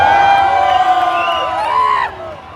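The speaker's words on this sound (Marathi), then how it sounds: "अशी गर्दी जाम गर्दी भरपूर गर्दी." A dense crowd gathers for the arrival of a Ganpati idol in Mumbai, with loud, continuous massed voices, cheering and whoops that ease off slightly toward the end.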